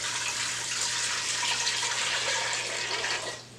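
Steady stream of water poured for dill pickle brine, eight cups for canning crunchy pickles, a continuous broadband splash heard up close and alone that tapers off at the end.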